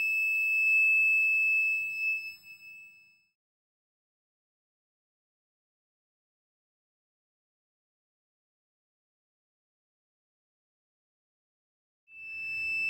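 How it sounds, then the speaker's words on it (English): A shrill electronic buzzer from a homemade alarm clock system that also pulls off a blanket and switches on a light; it sounds a piercing steady tone for about three seconds, falls silent, then starts again. "The buzzer is sounding off, creating an obnoxious noise."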